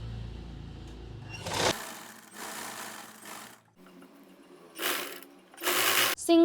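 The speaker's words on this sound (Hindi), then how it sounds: "फिर थोड़े स्टेप में सिलाई लगानी है।" Domestic sewing machine stitching fabric with a bias-cut edge in short bursts, several close, loud runs separated by pauses and handling clicks.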